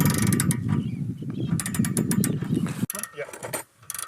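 A ratchet spanner tightens the bolts holding a water rocket to its launcher, giving bursts of rapid clicking under people talking, then a sharp break and quieter clicks.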